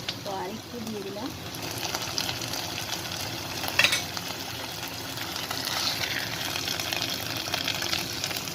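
Ginger-garlic paste, heavy on ginger, sizzles steadily in a pan for mutton curry, a continuous close frying hiss with brief stirring scrapes and faint voice at moments.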